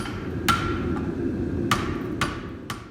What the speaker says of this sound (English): The first step is taking it to the power hammer, where I kind of crease the metal, and then I move it on to the anvil